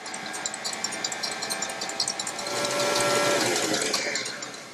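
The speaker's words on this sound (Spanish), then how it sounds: "Seguimos mezclando a velocidad baja para que se integren estos elementos, estos ingredientes que acabamos de adjuntar." An electric stand mixer runs at low speed through almond cake batter, giving a steady mechanical whir with a faint rhythmic ticking that swells slightly midway, close and continuous with no talking.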